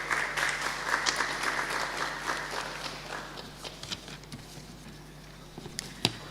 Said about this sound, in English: A round of applause for Mr. Rafael.